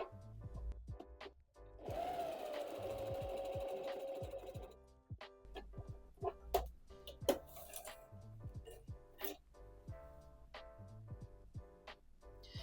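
Domestic sewing machine running a zigzag stitch at stitch length 3 and width 6, a quiet whirring burst followed by scattered clicks and light mechanical taps.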